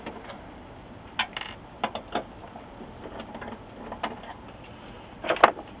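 Screws being removed from the electronics assembly of an LG W2753V-pf LCD monitor, heard as scattered small metallic clicks and ratchety squeaks of a screwdriver, close and intermittent.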